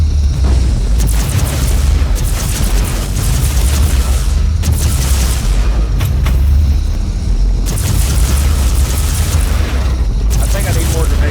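Repeated grenade explosions and heavy booms from the Warhammer 40k Inquisitor-Martyr action RPG, coming in dense loud bursts with rumbling low end, separated by brief quieter gaps, with game effects layered throughout.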